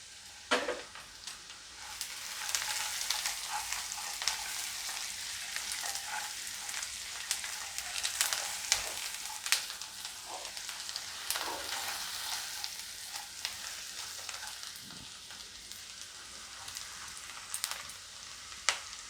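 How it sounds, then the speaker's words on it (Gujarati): Sliced onions sizzle steadily in a hot pan for Indori poha, a continuous crackling fry with occasional pops and brief stirring scrapes, close and loud, with no talking. "એકથી 2 મિનિટ આને આપણે પાકવા દેવું ડુંગળીને"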